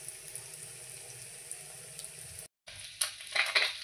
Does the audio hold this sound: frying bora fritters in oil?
yes